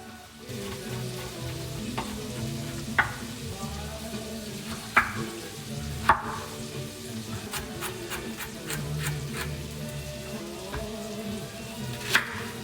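Diced carrot, leek, celery and cabbage browning in a pot, a continuous close sizzle with occasional sharp clinks of a utensil against the pot and stirring sounds, with music playing faintly underneath.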